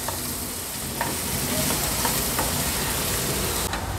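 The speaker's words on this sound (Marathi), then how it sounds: "कांदा छान मऊ होईपर्यंत शिजवून घ्यायचा आहे" Onions softening in a pan over a low gas flame, a steady soft sizzle and crackle running throughout with a few faint stirring clicks, close and even, no voices.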